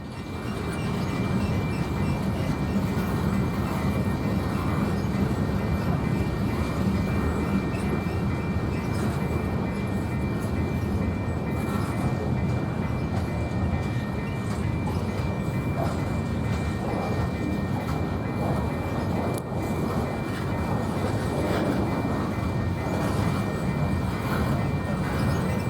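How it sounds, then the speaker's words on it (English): A BNSF light power locomotive move passes at a rail yard in Cheyenne, Wyoming, a steady loud rumble of engines and rolling wheels sustained from start to finish with no talk. "we spot a light power BNSF move"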